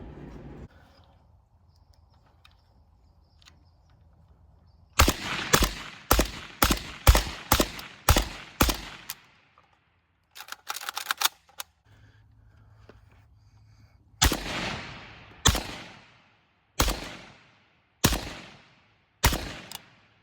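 Rifle shots through a CAT WB 718 suppressor on a 16-inch barrel, about a dozen sharp reports in a quick string, a short pause, then several slower spaced shots, loud and near with quiet gaps between.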